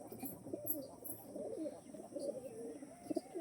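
Adult racing pigeons of a tournament-flown breed cooing faintly and softly, with low murmuring coos repeating over a quiet background and no voices.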